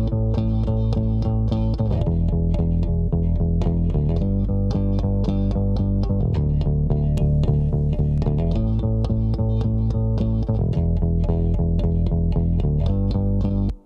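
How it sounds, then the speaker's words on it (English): An octave bass line runs through the Tukan Tape Machine plugin in REAPER, playing a steady, loud, dense riff with regular note changes for the whole stretch, alone with no talk, and stopping abruptly at the end. "I'm going to do my octave bass, which sounds like this."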